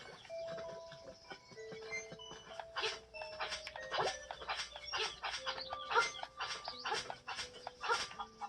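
Chirpy, repeated electronic game sounds from the flying rooster in Zelda: Link's Awakening, a run of short bright blips and jingles over a tonal music bed, steady and moderately loud with no talking.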